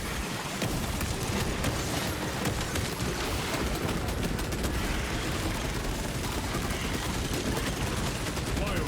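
Heavy bolter firing full-auto in a video game, a dense continuous roar of rapid shots sustained throughout, loud and unbroken, with a voice talking over it.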